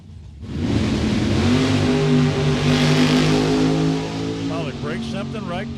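A drag race car, an 80 Camaro or 79 Cutlass, revs hard and steadily on the line, then its pitch sweeps and warbles unevenly as it struggles to keep running, loud and close under talk.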